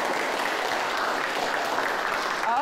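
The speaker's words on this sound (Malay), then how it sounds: "tepuk tangan untuk diri kamu" Students in a home-based class for SPM chemistry, economics and Form 4 science applaud themselves after a group counting activity, a steady dense wash of clapping lasting a couple of seconds with no talk over it.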